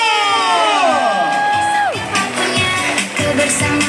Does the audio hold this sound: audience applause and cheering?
yes